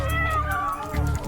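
A cat meows a single drawn-out, wavering call, loud and close, with a low hum underneath.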